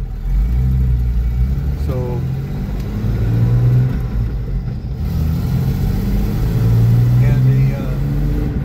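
A 1988 Ford Bronco engine cranks, starts and pulls away, its mid-pitched engine rising and falling as it drives steadily under a voice.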